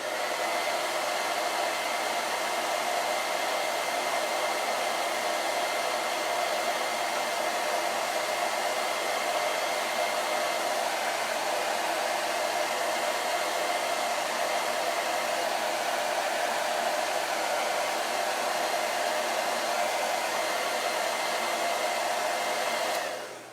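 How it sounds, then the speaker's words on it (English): A hair dryer blowing continuously to dry paint on a wooden craft sign, a loud steady whooshing drone with a constant motor whine that holds unbroken and then cuts off at the end. "Oh, but I gotta blow dry."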